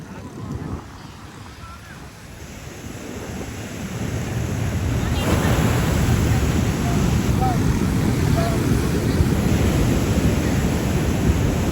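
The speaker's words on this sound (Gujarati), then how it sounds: "અત્યારે મિત્રો આપણે આવી ગયા છે માધવપુર બીચ" Surf rolls onto Madhavpur beach in a steady, broad wash, with wind buffeting the microphone. The roar swells and grows louder after the first few seconds, then holds at an even level.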